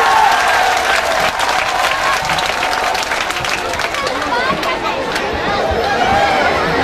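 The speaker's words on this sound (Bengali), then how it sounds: "ভালোবাসা দিয়ে একবার করতালির মাধ্যমে পালন করুন।" A crowd at a grand reception in Sheheangol, Swarupkati Upazila claps steadily and densely throughout, loud and close, with chatter and crowd murmur mixed in under the applause.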